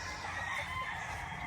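Gamefowl roosters, Roundhead and Sweater breeds on a Filipino farm, crowing loudly and nearby in overlapping calls over steady outdoor background noise, with no talking.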